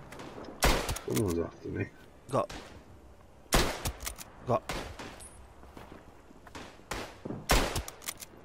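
Gunfire in Tannenberg, a World War I shooter played on PS4, comes as several sharp, loud bursts spread across the clip, with quieter cracks and clatter between them and a player talking over the action.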